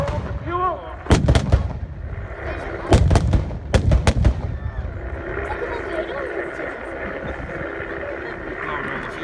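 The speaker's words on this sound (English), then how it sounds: "The German was over there with a stick grenade, threw it in." A German stick grenade goes off at a 1940s war reenactment weekend at Lytham, heard as several sharp, loud blasts in quick succession near the start, followed by a rumbling tail with crowd noise and voices underneath.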